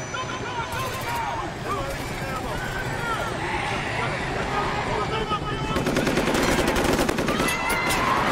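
Rapid gunfire bursts from the TV show Fear The Walking Dead play alongside engine and vehicle rumble, the shots growing denser and louder toward the end.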